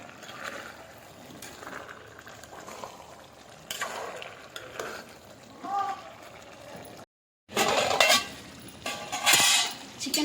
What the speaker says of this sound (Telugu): సరే ఇలా కలుపుకుందాం.